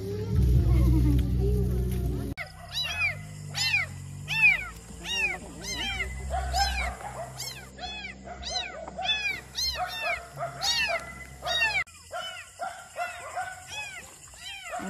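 A rescued kitten meows repeatedly in short, rising cries from about two seconds on, loud and close, with a low rumble of background noise at the start and brief voices nearby.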